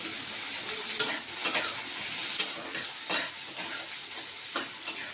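Ginger, tomato and chili fry in a pan with a steady close sizzle, punctuated by periodic clinks and scrapes of a spatula stirring against the metal.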